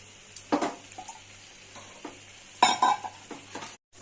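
Prawn masala being stir-fried with yogurt added, soft background sizzle broken by a few loud scraping stirs and spatula clatters, near and close-miked.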